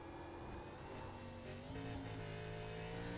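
Onboard with the number 8 race car, its engine screams loud and close, the pitch climbing and then stepping down through gear shifts on a circuit with a bus stop chicane.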